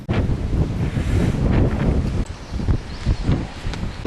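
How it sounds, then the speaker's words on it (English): Breeze buffets the microphone on a country walk by a river in Swaledale, Yorkshire Dales, a loud, continuous rumbling roar that surges and dips briefly before picking up again, with no voices. "The breeze is causing us a few problems."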